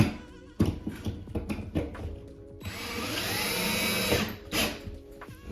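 A power drill bores into a wall stud while a storage rack is being mounted, a short buzzing start followed by a sustained drilling run of about two seconds, then a brief burst at the end, close and loud.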